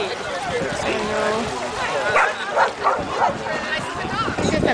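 A yellow labrador at a water park yelps, barks and whimpers in excited bursts, fairly close, while people talk nearby.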